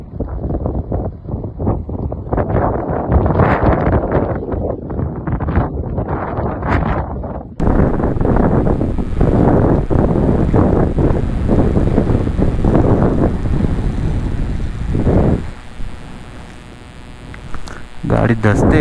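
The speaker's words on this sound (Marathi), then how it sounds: "वारा सुटला तर कशी रेत उडते." Strong desert wind roars over the sand on a stormy Ladakh route near Thang and Shyok, buffeting the microphone loudly and steadily throughout while people talk over it.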